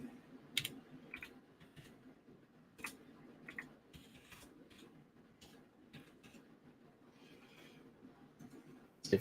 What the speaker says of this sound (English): Oh, I'm typing something somewhere and it's okay.